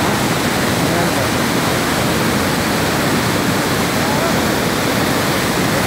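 Rakasganda waterfall roars loud and close: a constant, dense rush of falling water with no breaks, filling the whole stretch.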